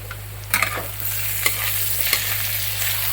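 Masala frying in a pan for a chicken dish, stirred with a utensil: steady sizzle with a few scraping strokes of the spoon, close and fairly loud, no voices.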